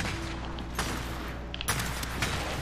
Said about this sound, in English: I just want to get a blind fire headshot.